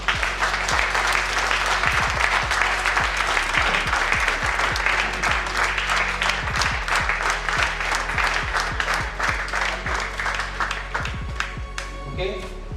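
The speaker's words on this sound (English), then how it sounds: "Doesn't the energy need a clap for this?" A class at a World Tai Chi and Qigong Day session in Mumbai claps loudly, dense overlapping applause with sharp individual claps standing out, continuing steadily before thinning slightly at the end.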